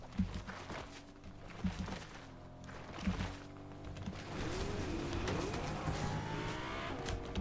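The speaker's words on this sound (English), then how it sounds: "someone in the blooming car" A car drives in Fortnite, its engine droning steadily with periodic thumps and a rising, whining engine pitch toward the end, fairly faint and without talk.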